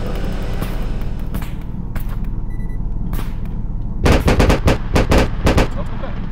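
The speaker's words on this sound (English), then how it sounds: "Stop shooting our rolling gear." Payday 2 gunfire in a heist: rapid automatic bursts crackle over a constant rumbling background, sparse shots early, then a loud, dense volley of sharp reports near the end, with no voices.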